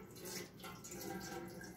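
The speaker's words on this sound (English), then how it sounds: "I'm going to pour some water in the bottom." Water is poured into the bottom of an air fryer before cooking bacon, a short, soft, steady splashing stream heard up close.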